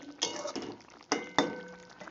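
Spinach being stirred in a cooking pot, with a few distinct clinks and scrapes of a utensil against the metal at irregular intervals, close and fairly quiet.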